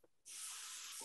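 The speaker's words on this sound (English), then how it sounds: "They should be sizzling nice." Balls of burger meat hit an oiled pan and burst into a loud, steady sizzle that holds for about a second, with no voices.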